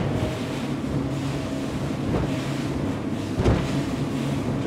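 An Axopar 37 XC cabin boat powered by a COX diesel outboard cruises through choppy waves at about 30 knots, giving a steady engine roar under rushing wind and water with a brief splash thump near the end.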